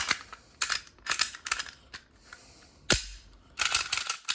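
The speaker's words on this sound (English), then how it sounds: "We're gonna put the gun back together." Glock pistol being reassembled after a barrel and recoil spring swap on a cheap ported slide: a run of sharp metallic clicks and clacks, several close bursts with brief pauses and one heavier slide snap midway, no voices.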